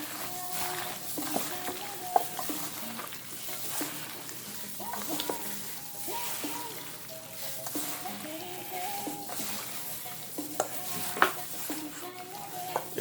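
Chicken masala with hot curry frying in oil in a pan, a soft continuous sizzle broken by scraping stirs and light clinks of a utensil against the pan, close and fairly quiet, with a voice speaking occasionally.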